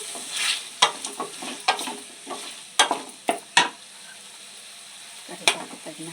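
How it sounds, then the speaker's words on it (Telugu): Onions are stirred into cooked masala in a pan, with a constant sizzle under a series of sharp, close spatula scrapes and knocks against the pan. "ఇప్పుడు మసాలా కుక్ అయ్యాక ఇందులో ఆనియన్స్ వేసుకోవాలి"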